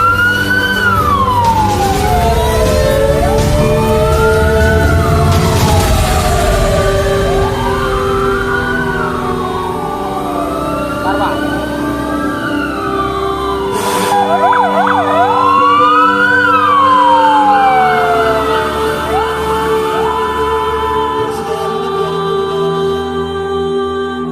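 Several ambulance and emergency sirens wail loudly and overlap during a village disaster-preparedness drill in Pulo, Kluet Utara, South Aceh, their rising and falling tones continuing unbroken for more than twenty seconds with vehicle rumble underneath.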